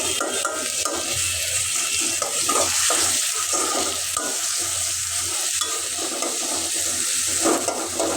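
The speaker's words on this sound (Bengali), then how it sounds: "এটা ভাজা ভাজা হতে থাকে" Continuous loud sizzling of onion and garlic frying in a pan, with occasional stirring scrapes and no voices.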